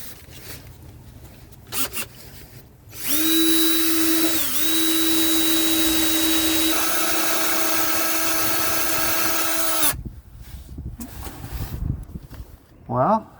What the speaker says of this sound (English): I'm going to get a wire wheel or wire brush to clean up the rust